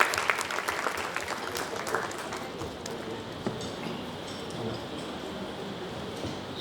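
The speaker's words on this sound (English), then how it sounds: "Round of applause for her." Audience clapping for a speaker at an HR conference session, a dense burst of applause that starts strong and gradually fades to a softer scatter of claps.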